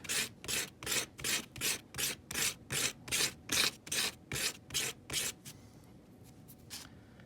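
Steady back-and-forth rubbing of sandpaper on bamboo knitting needles, about a dozen even strokes close up, then a quieter pause with a few light touches.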